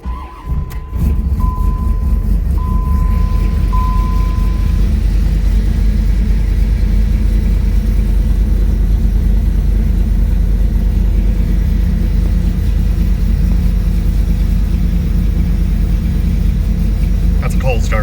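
Cold start of a Gen 2 LT1 car engine fitted with an eBay turbo kit, a brief starter crank then a loud steady low rumbling idle close by, with a faint tone early on.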